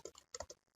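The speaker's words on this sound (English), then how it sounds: "We'll go ahead and type in Halloween." Quick burst of keystrokes on a computer keyboard, six or seven soft clicks in under a second, close and quiet, with nobody talking.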